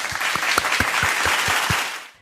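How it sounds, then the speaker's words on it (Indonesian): An audience applauding together, a dense close burst of clapping with some audible individual claps, fading out at the end. "Tepuk tangan."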